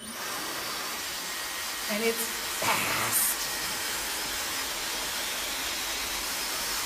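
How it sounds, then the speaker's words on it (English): A Dyson hair dryer runs in a salon during a haircut, giving a steady, close airy roar that lasts the whole stretch, with a brief spoken remark over it. "I have this great little blow dryer here."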